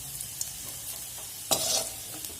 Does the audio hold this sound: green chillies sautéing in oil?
yes